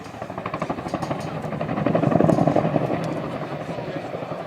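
A helicopter at the Waddington air show, 2013, flying sideways in a display pass, its rotor chop a steady rhythmic thudding that swells toward the middle and eases off, heard under a commentator's voice over the public address.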